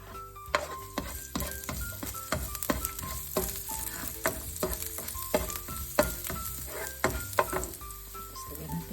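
Garlic sizzling and being stirred in a frying pan, with repeated sharp utensil scrapes and clinks over a steady hiss, close and fairly loud, no talking.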